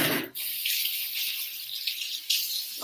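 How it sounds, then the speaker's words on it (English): Water runs from a kitchen tap during handwashing, a steady close hiss that starts abruptly after a brief moment and carries on with small splashes and shifts in flow. "I'll wash my hands."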